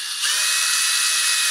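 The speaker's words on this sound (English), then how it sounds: "drill a quick hole into the bottom there and feed a screw through that" A power drill bores a hole into the bottom of a 3D-printed part, a steady high-pitched whine starting abruptly and holding loud and close.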